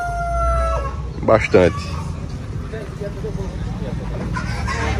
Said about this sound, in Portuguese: Galinha ali. Galinha aqui.